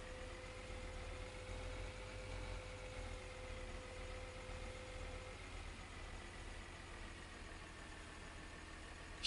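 A tractor engine driving in Landwirtschafts-Simulator 2013, a steady low droning hum holding at an even level with a faint whine that fades partway through, no voices present.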